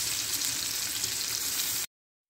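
Garlic and onion sizzle steadily in hot oil as the base for munggo, a constant close crackling hiss that cuts off abruptly.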